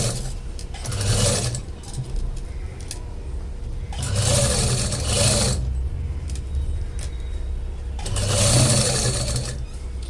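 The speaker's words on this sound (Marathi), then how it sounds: "मी पूर्ण ह्याला राऊंडला शिलाई करून घेणार आहे लेसची" A sewing machine stitches lace around the edge of a fabric potli bag in three steady runs of rapid mechanical chatter, close and loud, with short pauses between runs.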